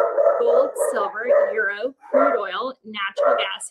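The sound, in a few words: dogs barking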